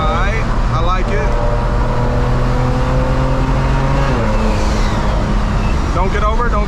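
A Dynamic Autowerx stage 4 tuned BMW 335i, capable of over 600 hp, drives on the highway with a loud, steady engine drone heard from inside the car, its pitch shifting slightly as the throttle changes.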